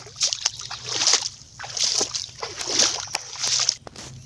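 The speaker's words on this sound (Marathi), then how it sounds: "आता गाईज मी पाण्यातनं जाणार आहे।" Someone wades through knee-deep water in a tree-lined tidal marsh, each stride making a sloshing splash in a steady rhythm of roughly one per second, close and moderately loud, with no talking.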